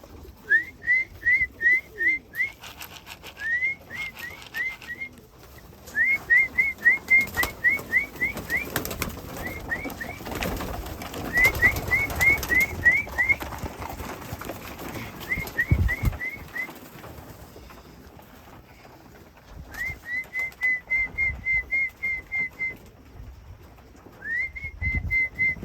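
Pigeons are called back to the loft with repeated bursts of sharp, rising whistles in quick rhythmic runs, loud and close, separated by pauses with some wing flapping and background noise.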